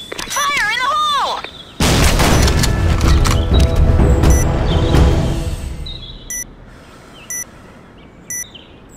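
A loud grenade blast in the Sudden Attack shooter comes right after a game voice line, with a long rumbling roar that fades over several seconds, followed by quiet, evenly spaced electronic beeps.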